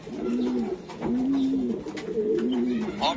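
Racing pigeons on a farm coo in repeated low, rolling phrases, about three close coos in sequence, with faint background voices and chatter.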